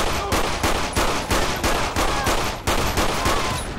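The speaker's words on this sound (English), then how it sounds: "Oh, he's just getting drilled with bullets." Rapid automatic gunfire in a GTA V police-mod shootout at Sandy Shores, with dense bursts of shots in a fast, steady rhythm, loud and close, no voices.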